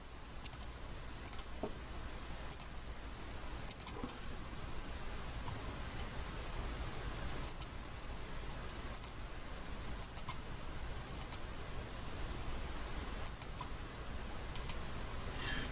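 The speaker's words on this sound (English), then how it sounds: "And then right mouse click when you're finished." Faint, sharp clicks of a computer mouse during cephalometric tracing software work, spaced irregularly a second or two apart over a steady background hiss.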